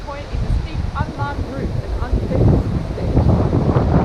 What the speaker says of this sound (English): Geez, it's a bit windy here.